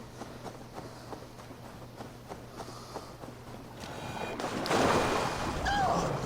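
In Assassin's Creed Valhalla, a man is thrown into the water: a burst of splashing and churning waves follows a stretch of footsteps and soft ambient surf, rising and staying loud toward the end, with no speech.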